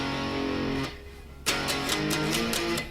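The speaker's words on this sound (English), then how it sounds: "You can play a power chord with 3 fingers." Electric guitar power chords played with three fingers ring out with distortion, one chord fading before a sharper strum and a run of quick repeated chord hits, with no talking.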